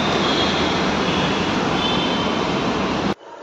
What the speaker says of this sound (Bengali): ওই দেখো ওইদিকে মেট্রো গাড়ি চলে এসেছে